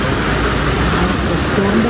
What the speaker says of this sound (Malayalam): പെരും മഴയാണ്